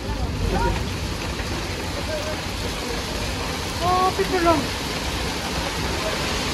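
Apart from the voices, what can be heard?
hail falling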